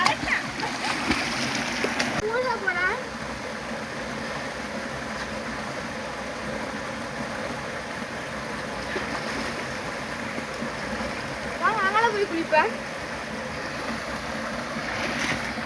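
Water splashes and rushes continuously in a rocky stream as people bathe in it, with voices calling out over the flowing water.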